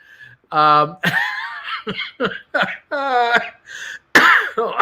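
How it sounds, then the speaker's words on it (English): Several harsh coughs and throat-clearing bursts mixed with chuckling, close and loud, in uneven clusters with short gaps between. "laughing makes me cough"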